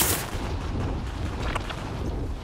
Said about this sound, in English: I got a bomb coming my way.